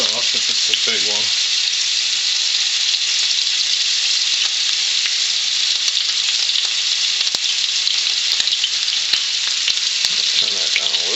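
Dense hedgehog mushrooms fry in a pan with a steady, loud, continuous sizzle throughout, alone without talk.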